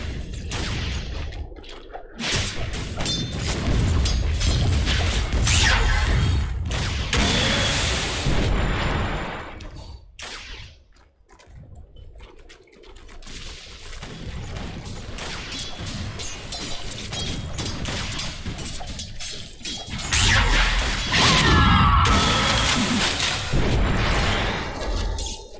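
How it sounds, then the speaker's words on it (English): Battle sounds in Dota 2 as Radiant's top tower comes under attack and falls: dense, loud clashing impacts and crashing hits running almost continuously, with a brief lull midway before the fighting swells again. "Radiant's top tower is under attack."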